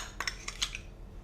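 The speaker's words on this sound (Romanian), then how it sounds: "Amestecăm bine." A spoon clinks against a bowl while mixing vanilla sugar, sugar and lemon zest for a cheese and raisin cake, a handful of quick, light metallic taps close up, then quiet, no speech.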